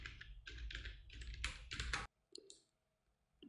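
Rapid bursts of keyboard clatter, several quick runs of keys close to the microphone, then a pause broken by a few isolated clicks.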